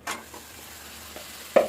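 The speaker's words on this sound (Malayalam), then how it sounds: "ഈ സമയം നമുക്ക് ഇതിലോട്ട് ചിക്കൻ ഇട്ട് കൊടുക്കാം" One kilogram of chicken pieces hits a hot pan, giving a short burst of sizzle, a quieter stirring scrape, and a second sharp hiss near the end, close and without voices.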